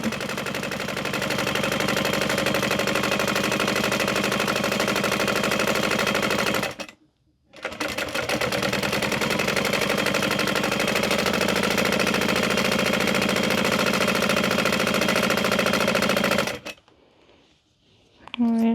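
A sewing machine runs fast and loud, stitching a handbag strap, in two long continuous bursts separated by a short stop, then falls quiet near the end.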